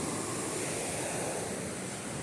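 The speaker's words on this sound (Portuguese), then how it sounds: "O mar tá com as ondas altas." High ocean waves break steadily on the north side of Praia Brava in Itajaí, Santa Catarina, a loud continuous surf roar with wind noise and no voices.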